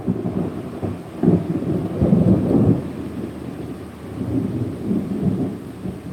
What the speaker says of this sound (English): That was a good thunder.